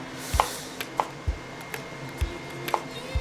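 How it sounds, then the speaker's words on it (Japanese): A knife chops food on a board into a coarse mince for a yellowtail and broccoli spaghetti, giving sharp, irregular, fairly close taps spread over a few seconds with no talk. "早くこう粗いみじん切り、こう粗いみじん切りです"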